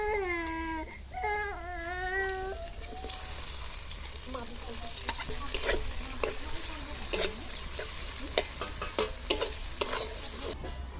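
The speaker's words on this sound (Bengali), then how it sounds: "মাছ ভাজা তেলের মধ্যেই পেঁয়াজ কুচি দিয়ে দেবো।" Chopped onion is tipped into hot oil in a wok that was just used for frying fish, then fries with a low, steady sizzle, broken by repeated scraping and clacking stirs. A child's crying is heard briefly at the start.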